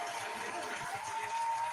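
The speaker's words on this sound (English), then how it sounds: "Round of applause for Joe." Applause closes a live stream, a brief steady wash of clapping with a faint crowd murmur, moderately loud throughout.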